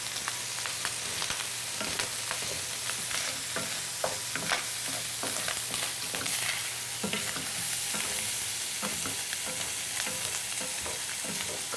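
A generous amount of garlic frying in a hot pan for an Italian sausage and farfalle dish: a constant close sizzle with repeated scraping stirs throughout.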